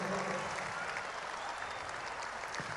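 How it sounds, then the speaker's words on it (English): Sustained audience applause at a Patriotic Alliance political rally in South Africa, a steady dense wash of many hands clapping with faint crowd noise underneath, continuous for the whole stretch. "give all the Muslims in the PA a great hand of applause"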